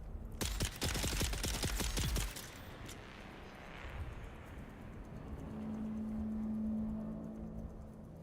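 Video game gunfire from enemies in Dune: Awakening, a rapid burst of shots over the first two seconds, then fading into a low ambient rumble and steady tone.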